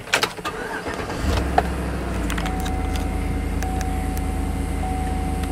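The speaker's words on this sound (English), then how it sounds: "Let's put the key in the ignition" Keys jangle and click into the ignition of a 2012 Chevy Suburban, a few brief metallic rattles up close, followed by the engine catching and settling into a steady idle hum.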